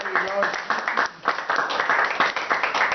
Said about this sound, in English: So a round of applause for them, even though they're not here.